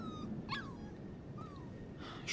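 Dog whimpering in the video game Life is Strange 2, with a few short rising whines and yips over a steady ambient game background.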